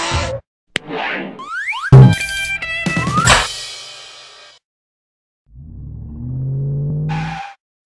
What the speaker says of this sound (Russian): Легковой автомобиль.